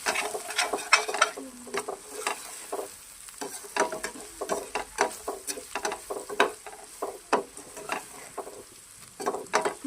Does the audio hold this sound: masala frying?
yes